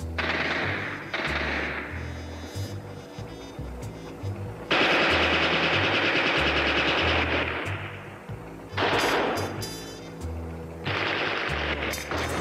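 Gunfire in a war film shootout with a German patrol, bursts of machine-gun fire in several loud volleys with pauses between, heard over dramatic low music.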